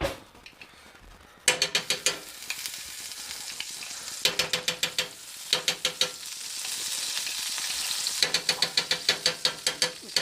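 Butter melting in a hot pan while pork loin cooks, a steady close sizzle and crackle broken by repeated rhythmic scraping strokes across the pan surface.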